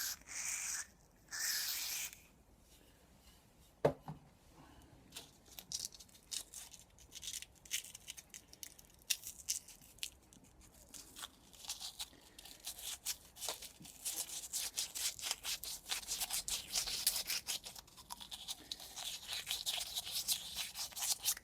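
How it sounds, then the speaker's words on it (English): A motorcycle's rear brake caliper bore, on a Yamaha XT600e, is honed with rolled 240 grit abrasive, giving soft intermittent rubbing strokes that grow into a denser, quicker scratching toward the end, close and quiet, with no speech. "I have a piece of rolled up 240 grit, and I'm just honing it."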